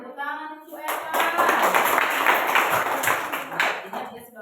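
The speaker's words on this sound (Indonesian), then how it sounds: "Tepuk tangan untuk Eka." A classroom of students claps for a classmate. A teacher's voice comes first, then dense, close applause swells and holds to the end.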